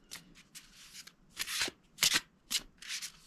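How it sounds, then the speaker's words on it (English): Hay House oracle cards are shuffled close up in a quiet room: a series of soft riffling and rubbing bursts, several louder sweeps among lighter ones, with no talking. "I always find the Hay House cards always nice to shuffle"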